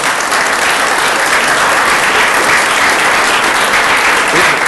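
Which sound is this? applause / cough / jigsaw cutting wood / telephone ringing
applause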